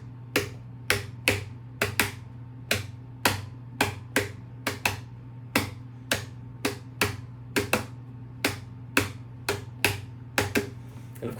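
An acoustic guitar played as a hand drum with the djembe slap technique, strings muted, tapping out a steady run of about two dozen crisp, close slaps in a repeating rhythm with no voices.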